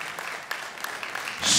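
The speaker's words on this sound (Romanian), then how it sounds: "Merită aplauze acești oameni deosebiți" Audience applause at a Christmas carol concert in Mediaș, honouring the performer's parents: scattered claps building into a louder, fuller burst near the end.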